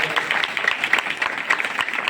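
A church congregation at a Sunday meeting claps hands together, a dense burst of overlapping applause with quick irregular slaps, fairly loud and close, lasting a couple of seconds.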